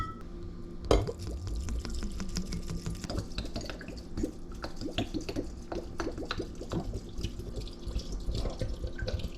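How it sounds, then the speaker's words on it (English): Vinegar poured into a jar of fire cider ingredients with hibiscus, a steady close splashing liquid stream running throughout with a bump near the start. "I'm gonna add some vinegar."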